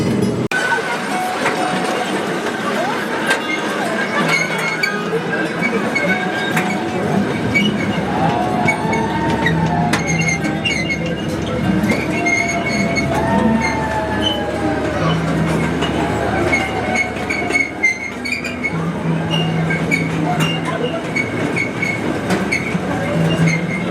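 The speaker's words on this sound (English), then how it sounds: "So this train has to go past the station and do a turnaround and come back to the station again." An amusement park train at Adventureland in Altoona, Iowa rumbles steadily past the station, with rhythmic wheel clatter, occasional metallic squeals and a continuous low engine drone, close and fairly loud.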